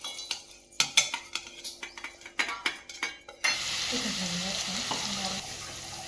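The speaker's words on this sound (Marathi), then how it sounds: "आपण हिरवी मिरची, जिरी आणि लसण हे मिक्सरला वाटून घेतलं होतं, ते घातले तेलामध्ये." Green chilli, cumin and garlic paste hits hot oil and sizzles loudly and steadily after a few clinks of a spoon against the pan, the frying carrying on alone to the end.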